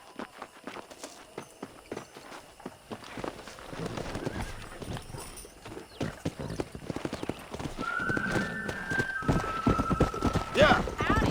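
Horses galloping in Red Dead Redemption, a rapid, loud clip-clop of hooves building in pace, with a whinny partway through and voices talking over the ride.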